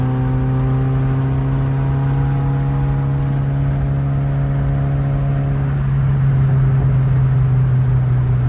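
Loud car engine warming up, a steady close drone with strong layered hum that holds evenly and swells slightly near the end, with no talk over it.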